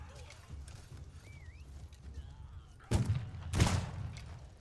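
Horse hooves in the video game Conqueror's Blade, two loud thudding impacts near the end over a steady battle rumble, with faint calls and a voice in the background.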